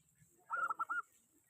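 A local zebra dove (perkutut) named Rawit gives a short, faint burst of four quick cooing notes, heard alone against a quiet background.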